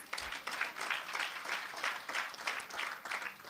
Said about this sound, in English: So as we begin, round of applause.